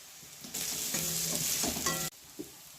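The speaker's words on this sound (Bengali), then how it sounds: "অল্প পরিমাণে জল দিয়ে মশলাটা আমি ভালো করে কষে নেব" Ginger-garlic paste with green chili and ground spices is stirred in a pan with a splash of water. A sudden bright sizzle bursts up, carries scraping stirring strokes for about a second and a half, then cuts off abruptly to quiet.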